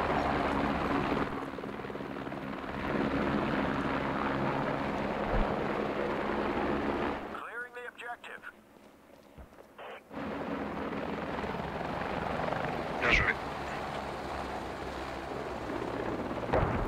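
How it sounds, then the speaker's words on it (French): Helicopters flying in the military video game Squad, a loud continuous rotor drone with a heavy low rumble that drops away briefly midway, then returns at full strength. "Le balai des hélicoptères."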